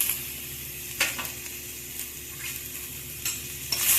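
Food sizzles steadily in a hot pan, with occasional scraping stirs of a spatula; onion and dried coconut sautéing, no voices.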